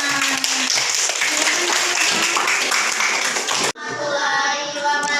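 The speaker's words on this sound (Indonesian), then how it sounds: "Kita kasih tepuk tangan" Audience applause after a presentation in an Indonesian teacher-certification session, a dense steady wash of clapping for several seconds that cuts off abruptly, followed by voices and tonal sound.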